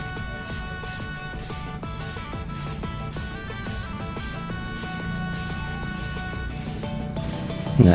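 An aerosol spray paint can (pilox) hisses steadily up close, its spray pulsing in quick, regular bursts for several seconds without a break.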